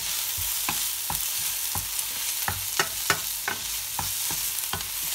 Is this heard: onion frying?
yes